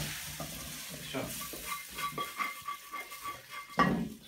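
Penne rigate pasta sizzles softly as it fries in a pan, with scattered clinks and scrapes of a utensil stirring, fairly faint and close.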